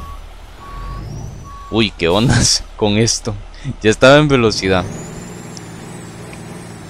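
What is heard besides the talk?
International bus engine in a video game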